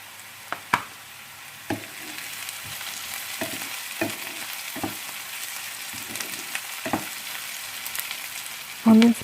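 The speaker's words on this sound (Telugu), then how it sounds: "ఇప్పుడు దీంట్లో మనం కట్ చేసి పెట్టుకున్న బీన్స్ని వేయాలి" Cut beans fry with onions in a pan, producing a soft, close sizzle punctuated by sharp clacks and scrapes of a spatula every second or so, ending with a brief louder knock.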